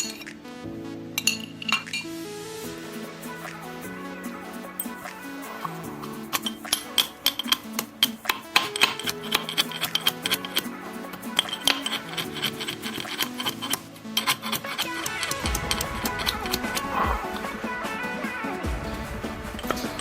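Boiled potato chutney with chilli and garlic being pounded by hand in a mortar, heard as a long run of close, rapid clinking and knocking strikes with shifting rhythm and no voices.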